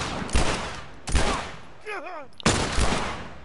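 Bursts of gunfire in The Last of Us, three loud dense volleys separated by brief gaps, with a short spoken word and a sweeping tonal sound between them.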